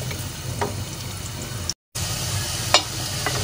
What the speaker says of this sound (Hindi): चमचा चलाते रहिएगा, अगर चमचा नहीं चलाएंगे तो ये जल जाएंगे।